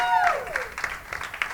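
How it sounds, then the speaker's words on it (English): A comedy audience applauds a comedian in a short burst of clapping, with a voice talking over the start. "give her a round of applause"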